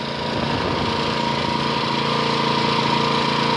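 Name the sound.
small engine running with Liqui Moly MoS2 oil additive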